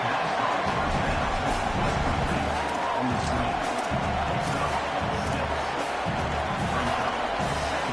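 A college football stadium crowd at a Georgia versus Oklahoma game keeps up a dense, continuous roar, loud and unbroken for the whole stretch.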